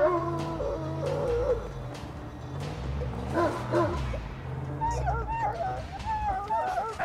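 A puppy barks and howls indoors in rising, wavering cries, heard over the sounds of a Mad Max video game and someone talking.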